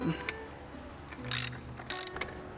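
A ratchet wrench snugs up the chargepipe screws on a BMW F30 340i with the B58 engine, giving two short bursts of close, crisp clicking against a quiet garage background.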